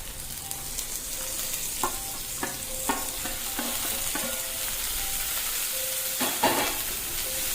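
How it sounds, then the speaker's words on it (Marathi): Vegetables for corn fried rice are tossed and stir-fried over a high flame, producing a continuous close sizzle punctuated by intermittent clanks and scrapes from stirring. "भाज्या पण आपल्याला हाय फ्लेमवरच परतून घ्यायच्या"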